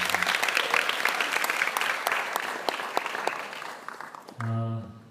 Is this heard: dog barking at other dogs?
no